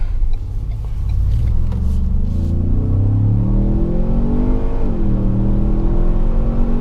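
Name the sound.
2017 Ford Explorer Sport twin turbo SUV accelerating in sport mode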